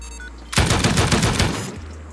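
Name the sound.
M249 machine gun firing in the video game Rust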